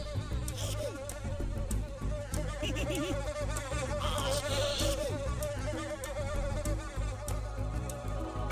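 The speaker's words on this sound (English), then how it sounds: "Fucking killer bees." Killer bees buzz constantly in TimeSplitters 2, a dense insect drone layered over busy game sounds and occasional sharp hits, loud and unbroken throughout.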